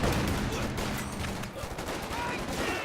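Sustained gunfire aimed at infantry in a war strategy video game, dense overlapping bursts and volleys filling the whole stretch at steady loudness, with a voice talking faintly underneath.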